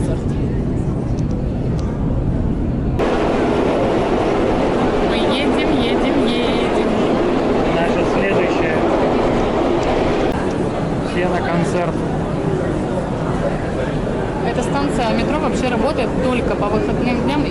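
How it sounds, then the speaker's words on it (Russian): Saint Petersburg metro train riding on the green line, a loud continuous rumble and roar of wheels and motors that swells after a few seconds, with people talking underneath. "мы уже с вами в метро, сели на станции Гостиный двор, здесь зеленая ветка"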